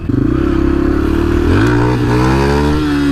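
A motorcycle engine revs loud and close while riding on an active mine site, holding a steady throaty drone before the pitch climbs and settles as the rider shifts up a gear.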